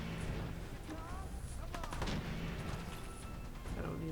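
Shotgun fire in the Fallout 4 video game, several sharp gunshot bursts over a busy, dense game soundscape with some background voice-like sounds.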